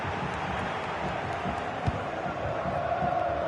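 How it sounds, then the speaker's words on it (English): Stadium crowd noise in a FIFA football video game match, a steady broad roar of cheering and chanting with a brief thump partway through. "The crowd encouraging him to take it on."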